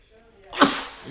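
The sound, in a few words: sneeze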